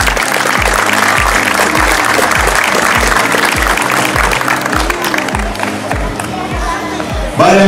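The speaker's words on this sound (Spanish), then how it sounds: "Un aplauso." Loud, sustained applause from a crowd at a flag-bearing ceremony for national games, dense clapping with some cheering, continuing steadily before a brief louder burst at the end.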